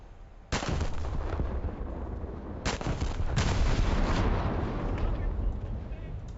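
Naval ship guns fire in War Thunder, a loud close boom opening a long rumbling roar, followed by two more heavy blasts that layer into sustained thunderous gunfire.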